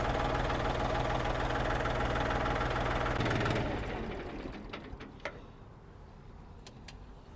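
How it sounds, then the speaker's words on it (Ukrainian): A Xingtai 244 tractor's power take-off shaft runs with a steady mechanical drone, then winds down, leaving quieter rumble from its KM385 1.5-litre engine and a few sharp clicks. "вмикаємо вал. Робота валу відбору потужності."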